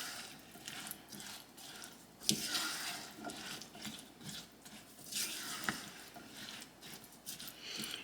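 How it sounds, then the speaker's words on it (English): A cranberry pecan topping for baked brie is stirred in a pot, making soft scraping and bubbling sounds with a few sharp clinks of the utensil against the pan, fairly quiet and without speech. "we're just going to give that a stir"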